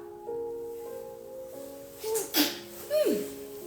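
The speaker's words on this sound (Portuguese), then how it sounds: "Vou espirrar." A single close, sudden sneeze bursts out after some humming tones, followed by a short sharp exhale or second catch of breath.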